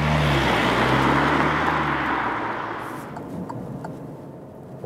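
An Alfa Giulia Veloce with a 2.2-liter diesel engine drives along, a steady low engine and road rumble that slowly fades over a few seconds, with no voices.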